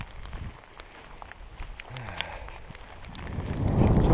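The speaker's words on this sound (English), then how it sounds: "So it's sort of hailing and raining on us." Rain mixed with hail patters on hikers' rain gear along the Colorado Trail, a soft irregular spatter with wind buffeting the microphone, swelling louder toward the end.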